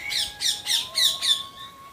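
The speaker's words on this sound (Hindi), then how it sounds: "ये पक्षियों की चहकने की आवाज़ भी आप सुन सकते हैं।" Birds chirp and squawk along a rural path near a village ashram, five bright rhythmic calls in quick succession, fairly close and loud over a faint steady whistle-like tone, with no talking.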